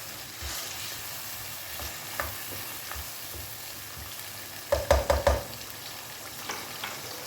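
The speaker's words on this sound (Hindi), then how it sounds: "दही डालने के बाद हमने अच्छे से भून लिया।" Yogurt and ground fried onion stirred and frying in a pot for nawabi qorma, a low steady sizzle broken by soft spoon scrapes and a quick run of louder stirring clatters near the end.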